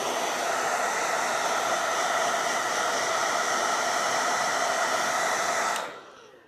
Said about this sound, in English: I'm going to get my blow dryer.